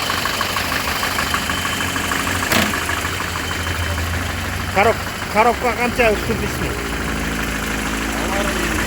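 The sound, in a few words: car engine idling, 2.4 litre four-cylinder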